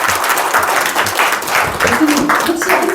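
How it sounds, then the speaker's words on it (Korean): A lecture audience gives a steady burst of applause for a professor, dense clapping filling the hall at close range while a host's voice carries over it. "다시 한번 우리 교수님께 큰 박수 부탁드립니다."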